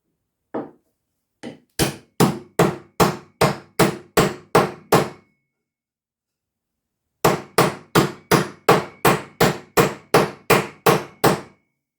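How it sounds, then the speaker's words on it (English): Sharp hammer blows drive a lathe drive centre into wood in two quick, evenly spaced series, about a dozen knocks each, loud and close with a pause between runs. "get a hammer and knock it in"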